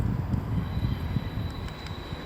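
A Class 37 diesel locomotive passes through Derby station, heard as a heavy low rumble and rolling noise with some wind buffeting on the microphone; no one speaks.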